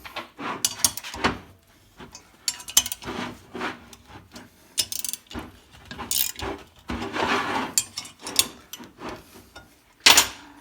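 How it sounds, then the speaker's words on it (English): Ratchet tightening the bolts on a rivet clincher pressed against a steel double-dome rivet head, giving repeated rapid clicking bursts with short pauses between strokes, close and loud, with no talk. "Then I make sure all these bolts are all tight,"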